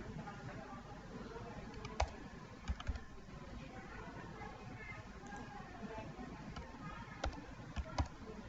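Sparse, faint keystrokes on a computer keyboard while typing a name during an AutoCAD installation, a few isolated clicks against a low hiss, with someone speaking Bengali over them.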